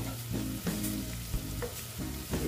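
Tomatoes frying in a pan for Bengali pabda fish tel jhal, with a steady close sizzle broken by several scraping stirs of the spatula, loud and continuous with no talking.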